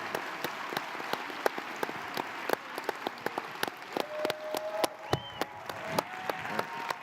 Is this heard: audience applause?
yes